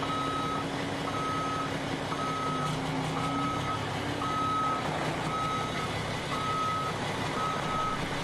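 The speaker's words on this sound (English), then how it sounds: "the easiest thing to do is just back the truck back in" A concrete truck backs into a residential patio site, its reverse alarm giving eight steady, evenly spaced beeps over a continuous diesel engine rumble, moderately close and with no talk.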